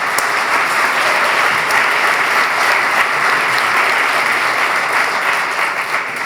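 An audience at a candidate debate applauds, a dense and loud wash of clapping that holds steady from start to finish with no pauses.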